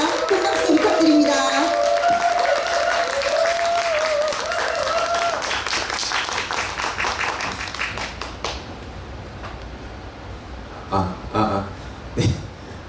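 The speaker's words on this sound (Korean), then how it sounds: "큰 박수 부탁드립니다." Audience clapping to welcome an author on stage at a Korean book concert, a broad wash of hands filling the room, fading gradually, with a few scattered louder claps near the end.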